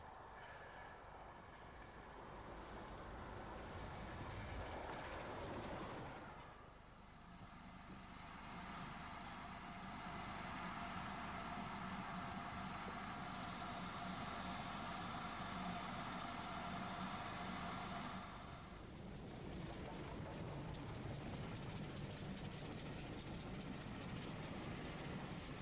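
A Pacific steam locomotive hauling an express on a Southern main line in the UK roars past, a loud continuous rumble and rush that swells and holds for much of the passage before easing off.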